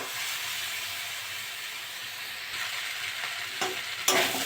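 Shrimp and green banana curry sautés in a pan with a little water, a steady steamy sizzle and hiss under occasional scraping and stirring, with a sharper burst near the end.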